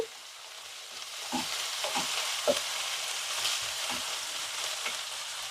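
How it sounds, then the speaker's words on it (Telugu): Ginger garlic paste with coriander powder fries in a pan, a continuous soft sizzle with several light taps and scrapes from stirring, close and moderately quiet, with no speech. "కొంచెం ఇది పచ్చివాసన పోయేంత వరకు ఫ్రై చేసుకోవాలి"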